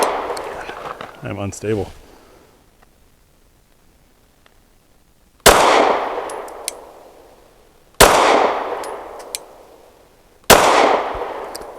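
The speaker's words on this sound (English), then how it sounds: "So I'm just going to shoot when I don't see it." Three sharp, loud pistol shots from a Derya Arms Rock Island DY9 fired at a target seven yards away, spaced a few seconds apart, each ringing out with a long decaying echo, after a brief spoken remark.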